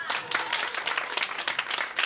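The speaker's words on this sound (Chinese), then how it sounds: "拍手。" Audience clapping at a live talk or performance, a dense, lively patter of many hands close by, steady and fairly loud through the whole moment.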